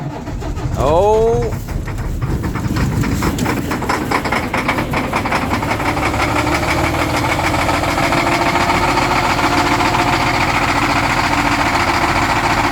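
Car engine cold-starting at -30C after sitting parked for a week: a short cranking burst, then the engine catches and settles into a loud, steady, rough idle with a knocking edge, with a brief exclamation over it.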